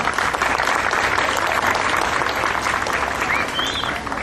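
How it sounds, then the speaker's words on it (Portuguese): Sustained applause from a crowd at a parish Bible walk in honour of a group of ministers, a dense, steady wash of clapping at even loudness throughout. "Palmas para o grupo de ministros."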